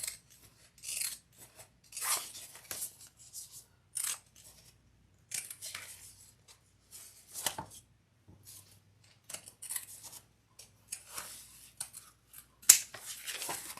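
Pinking shears cut fabric for a small crossbody bag, making a series of close, crisp snips in short separated bursts with quiet pauses between them.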